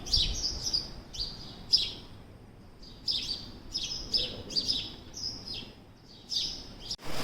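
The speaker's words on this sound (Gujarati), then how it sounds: "જો ચકલી કેટલી ચીચી કલબલાટ કર્યો છે" Sparrows chirping repeatedly in quick bursts close by, lively and irregular, with quiet gaps between the calls.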